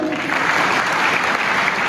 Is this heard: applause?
yes